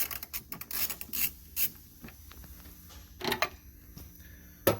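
Wrench loosening 10mm headlight bolts on a first-generation Ford Focus: close, faint metallic rubbing and rasping clicks in short irregular bursts, with a sharper tap near the end.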